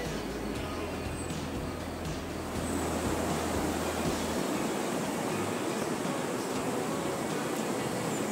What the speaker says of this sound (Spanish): Ahí a la verita del río